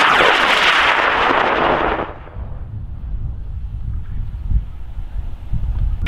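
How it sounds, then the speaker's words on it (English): Model rocket motor igniting and launching at the Kloudbusters Distant Thunder launch event, a loud roaring hiss that fades within about two seconds into distant rumble and wind noise. "Fire rocket, let's do this in 5"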